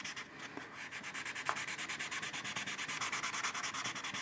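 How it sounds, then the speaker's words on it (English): Close, steady back-and-forth scratching of a 1000-grit sanding sponge on hard resin on a hood, a quick even rhythm of strokes with no voices. "I'll just give it a sand out these fisheyes"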